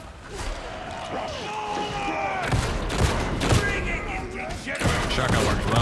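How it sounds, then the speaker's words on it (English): Shotgun fire in the video game Warhammer 40k: Darktide, dense bursts of blasts and impacts amid chaotic combat noise, with voices talking over it. "Shotgun works well on these guys."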